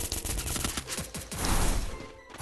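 Dense, rapid gunfire from the video game Free Fire, a steady barrage of overlapping shots that swells toward the middle and stays loud throughout.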